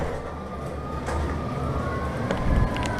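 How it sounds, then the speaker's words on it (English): Emergency sirens wailing in the distance outdoors during a severe thunderstorm, faint rising and falling tones over a low rumbling wind and rain wash. "listen to all those sirens out there"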